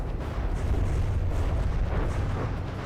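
Continuous heavy rumbling barrage of cannon volleys firing in the naval combat game From the Depths, dense overlapping booms with no pauses, loud and steady throughout.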